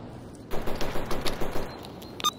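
Rapid automatic gunfire rings out in the Stalker Anomaly video game, a burst of about ten evenly spaced shots lasting under two seconds, followed by a single later report, moderately loud with no talk over it.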